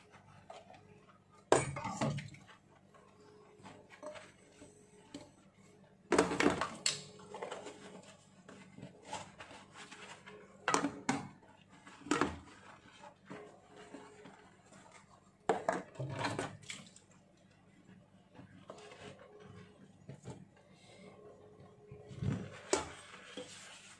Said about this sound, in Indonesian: Diawali dengan cuci piring.